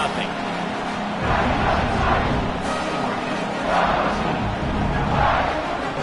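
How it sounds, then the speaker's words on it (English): Football stadium crowd in a video game buzzing after a score, a steady loud roar with swelling waves of noise throughout, no clear talk over it. "this crowd is buzzing after that last score"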